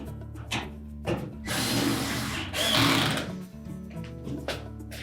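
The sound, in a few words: driving screws through dryer front panel into main top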